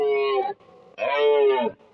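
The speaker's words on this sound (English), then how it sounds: "The moose." A moose gives two drawn-out, nasal, moaning calls separated by a short pause. Both are close, loud and resonant, with the second swelling and then fading.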